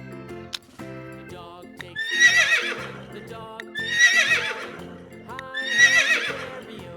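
A horse whinnies three times in long, loud neighs spaced about two seconds apart, with softer breathy snorts and shuffling in between.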